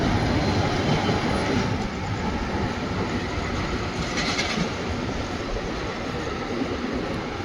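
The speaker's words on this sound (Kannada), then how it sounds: "ನಿಮ್ಗಲ್ಲೊಂದು ಟ್ರೈನ್ ಕಾಣಿಸ್ತಿದೆ ಅಲ್ವಾ ಗೂಡ್ಸು" A goods train rolls along the rails near Bengaluru, a dense, steady rumble and rattle of wagons and wheels, close and loud, with a brief high squeal partway through.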